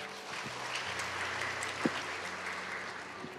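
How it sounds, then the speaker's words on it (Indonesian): A church congregation applauds during a service, the clapping faint and distant under a low sustained hum, with one sharper knock near the middle. "Ya tepuk tangan saudara."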